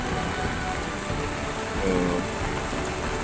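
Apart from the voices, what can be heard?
heavy rain falling in a garden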